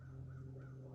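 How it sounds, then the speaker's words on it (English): A crow calling from up in the trees on a daylight woodland exploration trip, a few faint repeated caws over a low steady background hum, distant and brief. "A crow up there."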